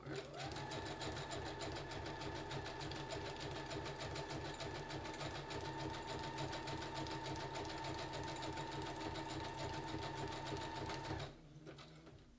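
A sewing machine stitches through a junk journal cover in one long continuous run, a steady close rhythmic whirring clatter for about eleven seconds before it stops abruptly.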